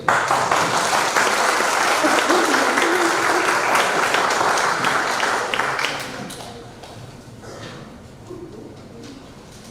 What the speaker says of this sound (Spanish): Un fuerte aplauso a ellos.